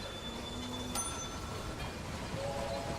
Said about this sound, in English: So we've also got a train in here from Saarbrücken as well.